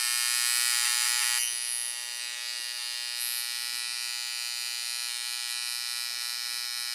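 Electric clippers trim a beard near the sideburns with a close, steady electric buzz that runs unbroken throughout, slightly louder at the start.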